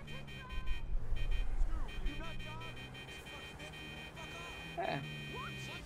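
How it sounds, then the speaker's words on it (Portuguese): Car horns honk repeatedly in GTA V as drivers sound off at pedestrians near a planted C4 bomb, a mix of buzzy tones and beeps under game ambience and someone talking. "Buzinando, buzinando."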